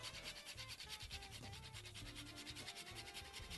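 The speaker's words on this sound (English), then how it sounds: "grate some nutmeg right in there" Whole nutmeg is grated into a creamy dish with a soft, rhythmic rasping scrape, repeated strokes heard close up over faint background sound.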